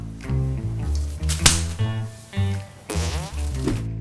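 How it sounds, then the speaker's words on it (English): A stock fart sound effect from a film plays as a loud, wet, sputtering blast over a busy comedic music score, with several rasping bursts across the span. "he takes a big giant poopy complete with stock fart sound effects"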